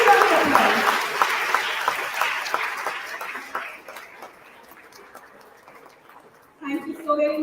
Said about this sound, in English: A standing ovation and a huge round of applause.